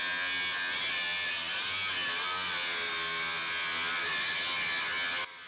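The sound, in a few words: Ryobi HP angle grinder cutting through steel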